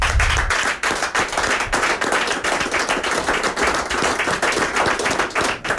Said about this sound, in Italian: vorrei che salutassimo tutti insieme con un applauso i dipendenti dell'IDI